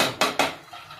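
A small spoon clinks twice against a dish in quick succession, bright close ringing taps that fade, followed by faint handling noise in a quiet room.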